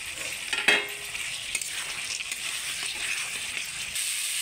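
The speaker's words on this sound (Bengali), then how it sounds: "আর এখন চিনে বাদামগুলোও দিয়ে দেবো এখানে। সমস্ত কিছু দিয়ে ভালো করে কষিয়ে নেব।" Peas and peanuts fry with fish head in a pan, a steady close sizzle with occasional spoon scrapes and one sharper clack near the start.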